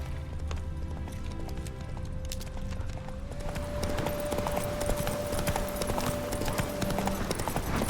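Roach, the horse in the Witcher 3 video game, gallops with a continuous, rapid clip-clop of hooves, heard close and fairly loud under a sustained musical tone from the game.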